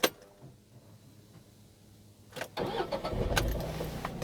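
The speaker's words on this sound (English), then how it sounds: "Okay, so let's quickly start the car." A Tata Tiago's 3-cylinder car engine cranks over after a quiet pause, catching with a loud burst and settling into a steady, close idle rumble, with no talking.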